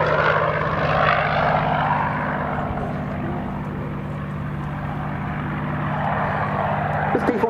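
A Curtiss P-40C Warhawk, a 1941 fighter, drones at Duxford with a loud, steady piston-engine roar and propeller hum that holds level for several seconds, with a voice partly heard over it.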